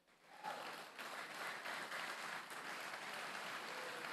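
An esports grand final audience at the IESF World Esports Championship claps for the event staff, a broad, even wash of applause that swells quickly and holds steady, sounding distant and somewhat faint in a large hall.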